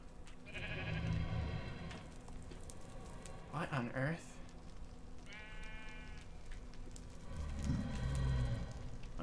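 Bleating from nether sheep in Minecraft, several short wavering calls spread through the clip, mixed with a person's talk and background game sounds.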